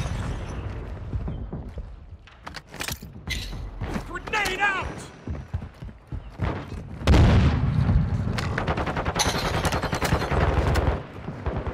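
Grenade blast and bursts of gunfire in a multiplayer shooter during a squad firefight, a loud boom followed by sustained rattling shots, with players talking over the action.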